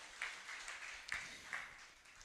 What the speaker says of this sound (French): On nous applaudit bon Dieu pendant notre chita.